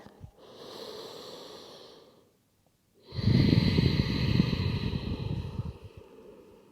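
Slow, deep breathing during yoga practice: a long, soft airy inhale, a short pause, then a louder, fuller breath that rasps audibly for several seconds, heard close up.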